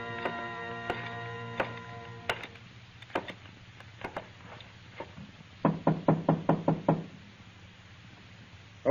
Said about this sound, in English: Open the door, Carter